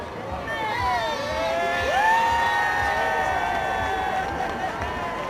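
Cheering crowd at the Tour de France Grand Départ in Leeds city centre, 2014: continuous loud crowd roar with whoops, whistles and rising shouts sustained throughout, a dense wall of voices with no distinct talk.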